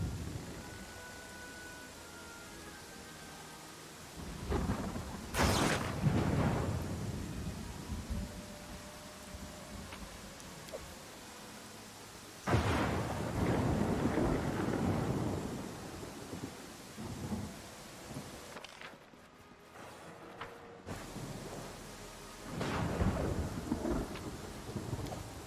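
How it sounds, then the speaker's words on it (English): Thunderstorm with steady rain in the video game Pathfinder: Kingmaker, heavy rain hissing throughout while several loud thunder rumbles and cracks roll in near and far, with a brief drop to near silence partway through. "we can always rest if we wanted to try to wait out the storm"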